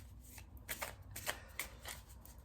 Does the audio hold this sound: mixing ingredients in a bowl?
no